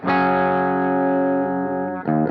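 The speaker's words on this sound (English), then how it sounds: "what you're gonna be hearing is me going right into my MGL 50, which is basically a Marshall JMP 50 watt from the late 70s, early 80s" A Joe Bonamassa Les Paul runs straight into a clean MGL 50, a Marshall JMP 50-watt style amp, with light reverb from a UAFX Golden Reverberator: one loud chord rings out steadily for two seconds, then a fresh note is struck.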